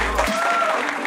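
Applause from an audience at a live radio broadcast in Nîmes fills the moment as a voice speaks briefly over it.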